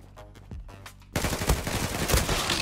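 A Fateh gun firing in the Zula shooter, a dense burst of rapid automatic shots that starts abruptly after a quieter lead-in and stays loud and close to the end.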